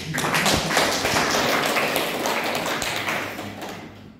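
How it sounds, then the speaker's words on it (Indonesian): Sustained applause from a meeting audience, with many hands clapping densely and steadily at close range for about four seconds before tapering slightly at the end; no talking over it. "maka mari kita memberikan aplaus"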